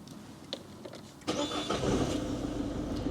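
A Peugeot 308 diesel engine cranks and catches after a couple of faint clicks, then settles into a steady idle rumble.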